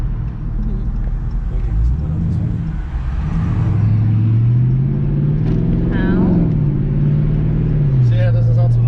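A Dodge Charger R/T Hemi with its mid-mufflers deleted rumbles steadily up close, its engine note rising and falling as it revs, under people talking.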